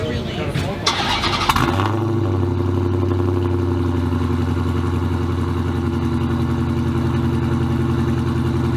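A supercharged Dodge Challenger R/T cranks and catches, then settles into a loud, steady, rumbling idle close by, with people talking at the start.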